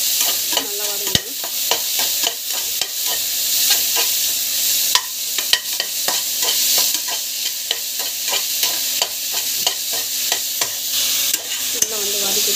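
Onions with coriander and mint fry in a pan under constant sizzling, with a spoon scraping and clacking against the metal in an irregular rhythm throughout, loud and close.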